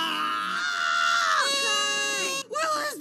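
An infant screams and cries loudly in a film scene, sustained high wailing breaking into shorter sobbing cries near the end.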